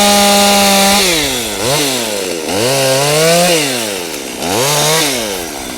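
A chainsaw makes the felling cut on a tree during woodland management, loud and close, its engine note rising and falling repeatedly as the bar bites into the wood.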